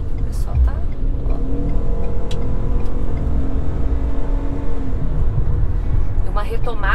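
A Ford Maverick Hybrid pickup accelerates hard to overtake on the road, its engine and road noise swelling in a rising drone heard from inside the cabin, with a voice talking at the start and end.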